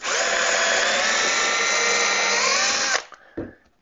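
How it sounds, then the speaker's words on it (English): A power drill whines loudly and steadily for about three seconds while pre-drilling wood for a beehive stand, then stops, followed by a few faint knocks. "And we'll pre-drill it"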